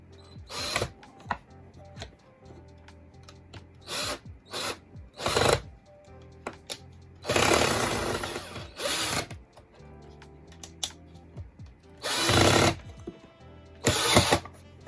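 Several bursts of a power drill whirring into wood, drilling pilot holes for a foot stool, some short and some held longer, with pauses and faint handling noises between them.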